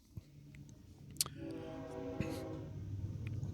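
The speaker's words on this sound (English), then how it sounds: "Wait just a moment as the train goes by, because it's distracting me." A train passing near an outdoor public meeting, a steady low rumble that builds and holds, with a sustained horn-like tonal blare in the middle and a few sharp clanks on top.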